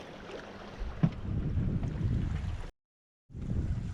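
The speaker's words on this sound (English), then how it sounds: "Wind is coming off the aft port side, and we're trucking along at 3 knots per hour." Steady wind and rushing water on a sailboat moving at about three knots, a continuous broadband roar that drops out briefly near the end before resuming.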